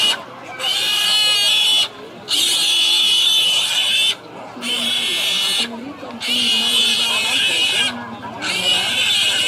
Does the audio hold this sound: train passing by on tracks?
no